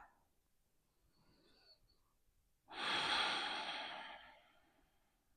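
A slow, deep breath taken during a foam rolling stretch for the hips and back: a quiet intake near the start, then a long, close, breathy exhale that fades out over about two seconds.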